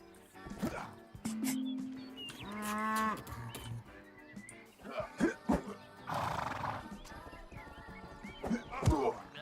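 Horses in a video game whinny loudly and close by, several neighs with snorts and a few hoof clip-clops spread across the stretch.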